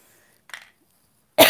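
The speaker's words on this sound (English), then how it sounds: "Excuse me for coughing." A single short, soft cough, followed after a pause by a louder burst of sound at the end.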